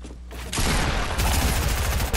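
Rapid bursts of video game gunfire from an online shooter match, loud and continuous after a brief quieter start, with dense overlapping shots filling the clip and no talking.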